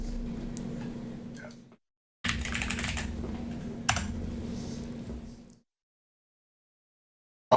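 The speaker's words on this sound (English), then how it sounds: "Or you can just type in the word dagger in the search field." Quick, light clicking of typing on a computer keyboard while searching for a dagger in a tabletop game tool, in two short bursts separated by brief silences, close and fairly quiet.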